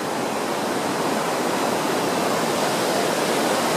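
The Whitewater River rushing along the Foothills Trail makes a loud, steady, broadband roar of whitewater that fills the whole clip with no let-up, heard close by and with no voices.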